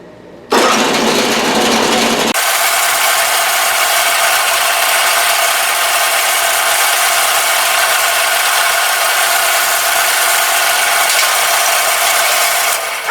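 A drill press bores holes into an air manifold, a steady high-pitched whirring and grinding that starts abruptly and runs loud and continuous, shifting slightly in tone after the first couple of seconds, with no talking.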